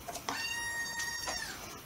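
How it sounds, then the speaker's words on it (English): A pet cat meows and cries in a couple of drawn-out, tonal calls, close and fairly clear indoors over low background noise. "He's just playing, crying. I can't figure out what his meows mean yet."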